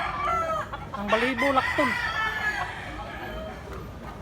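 A large 11-month-old stag rooster weighing around two kilos crows once, loud and near, its drawn-out call rising and falling while someone speaks nearby.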